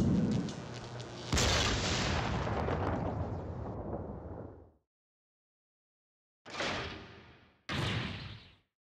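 A loud explosion rumbles and crackles for several seconds in the puzzle video game Ghost Trick: Phantom Detective, swelling with a sharp hit partway through before fading out. Two shorter blasts follow after a pause.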